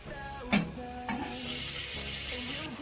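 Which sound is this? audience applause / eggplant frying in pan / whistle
eggplant frying in pan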